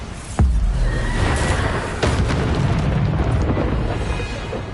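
A Bombarda explosion spell in the Hogwarts Legacy video game goes off as a sharp, loud boom, followed by a second impact and a continuous heavy rumble of in-game battle sound.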